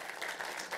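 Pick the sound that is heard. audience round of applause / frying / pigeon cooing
audience round of applause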